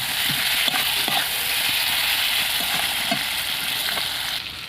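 Pointed gourd and potato pieces sautéing in mustard oil in a pan, a loud continuous frying sizzle with scattered scraping and stirring sounds.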